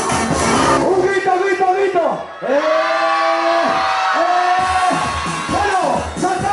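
Children's crowd at a festival shouting in unison, with long sustained yells that break off and start again, loud and close, with a brief gap between bursts.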